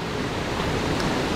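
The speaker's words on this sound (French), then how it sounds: "c'est le sommet de cette cascade-là." Steady rushing roar of a waterfall beside a forest mountain bike trail, constant broadband wash of falling water close by, with no talk.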